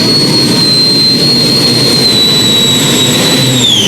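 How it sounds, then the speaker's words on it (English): A pulling tractor powered by a Russian Isotov turbine engine roars at a 1996 European tractor pulling championship, a loud, steady jet-like whine and rumble that sinks slightly in pitch toward the end, close and continuous with no talking. "this new machine from Ghostbuster 2, powered by a Russian Isotov turbine"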